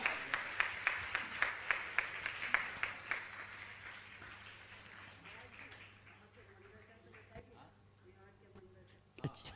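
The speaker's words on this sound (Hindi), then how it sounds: "दोनों हाथ उठा के आपकी तालियां अनुमोदना के लिए बजना ही चाहिए" Audience at an honouring ceremony breaking into applause, a fairly faint burst of clapping with rhythmic claps at first that thins and fades out over several seconds.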